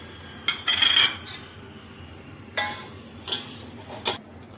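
A spoon clinks against a pan while stirring sugar into milk heating on a gas stove, giving a few sharp metallic taps and scrapes spaced over several seconds, close and fairly loud.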